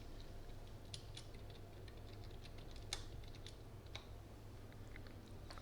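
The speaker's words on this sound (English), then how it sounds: "I'm going to just type in my text" Someone types text on a computer keyboard, a faint scatter of irregular soft key clicks over a steady low hum, with no talking.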